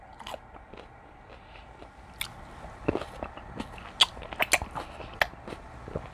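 Wet crunchy bites and chewing of fresh cucumber and tomato at breakfast, irregular crisp snaps and squishes close to the mouth.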